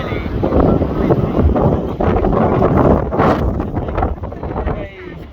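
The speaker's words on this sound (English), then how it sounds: "It's very windy." Strong wind of up to 60 mph buffets the microphone on a wet day at the beach, a loud, continuous roaring rumble that swells and dips throughout, with faint sea noise beneath it.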